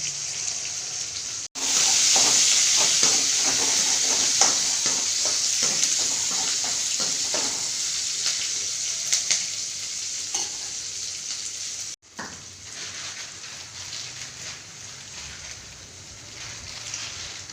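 Sambar boils in a covered pot over low heat with a steady bubbling, sizzling sound, loud and continuous, then cut briefly and resuming quieter with occasional scraping.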